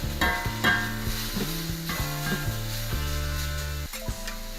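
Steak sizzles in oil on a steel plancha as it is stir-fried and kept turning, a steady hiss and crackle over a mix of tonal sounds, with no talking over it.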